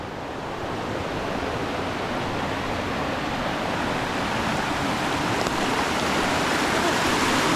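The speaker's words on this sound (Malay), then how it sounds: "Kita dah sampai ke sungai kedua." A mountain river at its second crossing on Gunung Nuang rushes steadily nearby, a dense continuous wash of flowing water with no talking heard.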